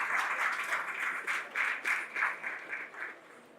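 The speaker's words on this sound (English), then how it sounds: "please have a huge round of applause for all our wonderful dignitaries on the dais" A conference audience at a business chapter inauguration ceremony applauds the dignitaries on the dais, a steady wave of clapping that gradually tapers off, with no talking.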